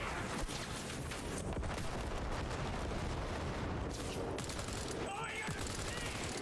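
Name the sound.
gunshots in a video game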